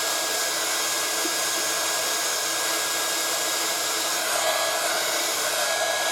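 A heat tool blows hot air in a constant loud whooshing roar with a faint steady whine, close and unbroken throughout, with no voices.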